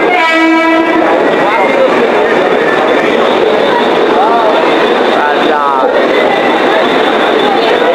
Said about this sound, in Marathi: कर्जतची ट्रेन आलेली आहे.